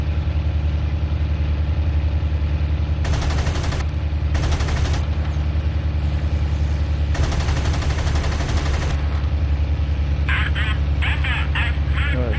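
Aircraft cannons fire in bursts in the IL-2 Sturmovik 1946 flight game, three rapid rattling volleys over a constant engine drone, followed by a few faint beeping tones.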